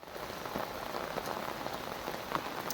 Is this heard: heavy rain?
yes